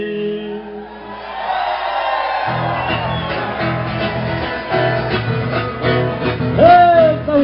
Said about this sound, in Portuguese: Se tá tudo bem aí, então grita pra nós ouvir.